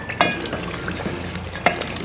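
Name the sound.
frying and stirring a masala base with a spoon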